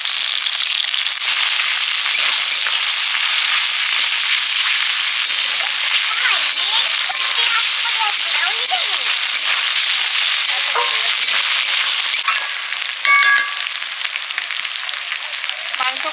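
Meat sizzling and frying loudly in a pan with tomato, green chili, garlic and ginger, a steady dense hiss running throughout with occasional stirring scrapes near the end.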